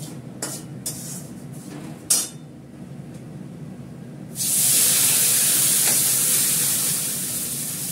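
Water hits hot fried mung dal in a pan: a few light utensil clinks first, then a sudden loud, steady hissing sizzle that tapers slightly as it settles.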